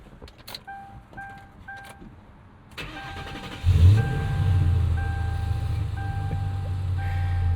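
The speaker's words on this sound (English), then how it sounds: "I'm actually going to start it with the door open so you can hear this exhaust" A 2003 Mercury Marauder with a V8 is started with the door open: door-ajar chimes beep repeatedly, the starter cranks briefly, then the engine catches with a loud burst and settles into a deep, steady exhaust idle while the chime continues.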